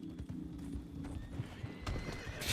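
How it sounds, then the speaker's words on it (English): Rhythmic hoofbeats of a horse clip-clopping along at a quick pace in the video game Red Dead Redemption 2, with a brief whinny, set against a low rumbling background. "Just slow that horse down, please."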